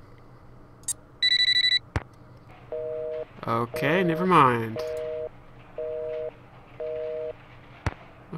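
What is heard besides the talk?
telephone call ringing then busy signal, from the video game Nancy Drew: Phantom of Venice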